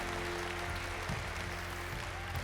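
A church congregation applauds during a service: a faint, steady wash of distant clapping over a low electrical hum, with no talk.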